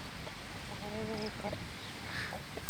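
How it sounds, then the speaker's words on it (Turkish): Hens cluck softly in a short burst with a few scattered calls, set against steady outdoor background noise. "Tavuklar nedense çok meraklılar. Çok meraklı hayvanlar."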